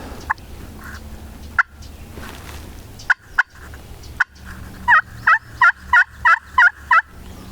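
A wild turkey gobbles repeatedly in the distance in Maine, starting with scattered calls and then a quick run of rhythmic gobbles, against quiet outdoor ambience.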